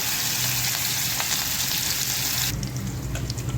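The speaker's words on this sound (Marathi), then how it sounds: "फोडणी चांगली तडतडलेली आहे" Hot oil hisses and crackles steadily as spices and crushed green chillies splutter in the pan, then the sizzle shifts in tone near the end as grated potato goes in.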